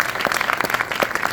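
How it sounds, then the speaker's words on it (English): An audience at an opening talk for a documentary about AMC, the last independent automaker, breaks into a brief burst of dense, steady clapping filling the room. "she deserves the applause more than me"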